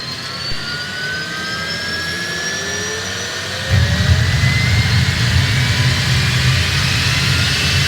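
An airliner jet engine spools up with a rising whine that climbs in pitch, and a deep roar kicks in partway through, loud and close.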